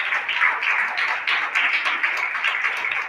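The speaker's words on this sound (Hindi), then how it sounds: "भाई जोरदार तालियां, लगातार तालियां" A crowd keeps up steady, dense clapping at a foundation's inauguration and honour ceremony, a continuous bright patter of many hands held at even loudness for the whole stretch.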